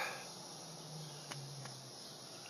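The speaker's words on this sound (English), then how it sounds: "Oh, them cicadas." A steady, high-pitched insect drone of cicadas buzzing continuously in the background, with a couple of faint clicks and no voices.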